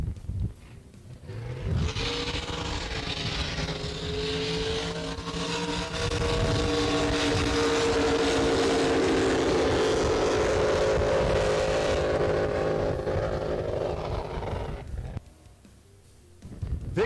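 A drag racing boat engine held against the rev limiter during a qualifying pass, producing a sustained loud, roaring drone with steady pitch bands and a slight rise, lasting most of the run before cutting off near the end.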